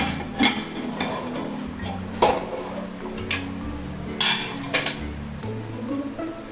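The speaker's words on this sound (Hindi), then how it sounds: "हम प्रेशर कुकर ओपन करके चेक कर लेंगे।" Scattered metallic clinks and clanks of a pressure cooker lid and pot being handled after baking bread, several sharp knocks spaced over a few seconds with a low hum beneath.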